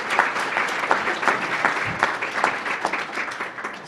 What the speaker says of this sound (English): You guys all deserve a round of applause